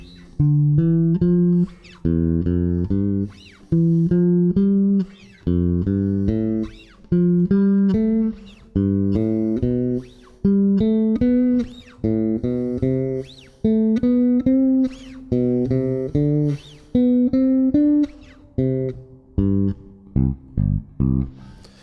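Bass guitar notes played in steady repeating groups, stepping up and down the neck in a practice pattern, ending with a few quick plucked notes.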